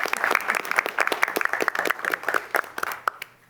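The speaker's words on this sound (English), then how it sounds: "I think you deserve a round of applause for that." A room of attendees at a board of education meeting claps, a quick spatter of distinct, fairly close handclaps that thins out and fades away toward the end.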